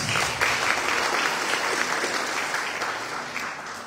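Sustained applause from an audience at a university academic-year inauguration ceremony in Chilca, steady and dense for the whole stretch with no talk over it.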